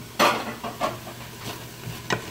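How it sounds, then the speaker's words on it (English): A spoon stirs onions and garlic sizzling in a pot, giving four or five short scraping strokes over a soft continuous sizzle, close and clear. "Stir it up"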